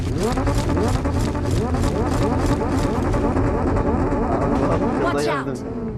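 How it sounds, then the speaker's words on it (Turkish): A car engine in the video game PUBG Mobile drones and revs loudly and steadily, its pitch rising and falling throughout, with players' voices talking over it. "Araba sesi var."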